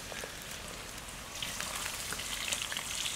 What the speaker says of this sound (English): Just residual drips falling off the trees